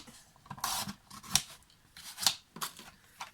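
Scissors snip through a rectangle of paper while making an invitation card, several separate crisp cuts spaced irregularly, close and fairly quiet with no talking.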